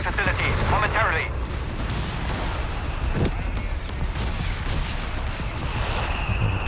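Artillery pounding a mortar and mortar pit in Company of Heroes 3, a loud continuous wash of battle rumble with a sharp impact near the middle and game voices in the mix.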